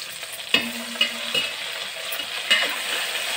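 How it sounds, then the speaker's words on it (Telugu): Chopped tomatoes drop into a pan of frying brinjal, giving a steady close sizzle broken by a few soft thuds and stirring scrapes, with no voices. "ఇప్పుడు టమాటాలు, ఈ 2 టమాటాలు ఇలా కట్ చేసుకొని ఇవి కూడా వేసుకోవాలి."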